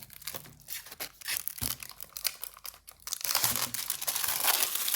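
Plastic wrap crinkles and tears as a manga volume is unwrapped, close-up rustling and crumpling in bursts that grow denser and louder toward the end.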